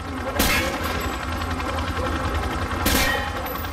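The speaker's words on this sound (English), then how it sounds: "Just fire from the hip." A rifle is fired from the hip in Call of Duty Modern Warfare 2, giving loud, sustained automatic fire as a dense stream of shots, with two sharper bursts standing out.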